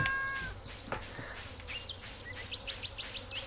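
A cat in the farming game Stardew Valley gives a faint meow amid quiet ambient game sounds, followed by a run of short, rhythmic bird-like chirps, with no talk.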